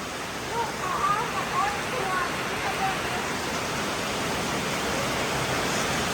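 Water rushes and flows during heavy rain late at night near a canal, a dense, loud, unbroken roar, with faint voices briefly audible early on.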